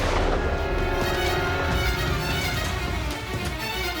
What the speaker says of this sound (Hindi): इसके जाने के थोड़ी देर बाद ही गोली चलने की आवाज आई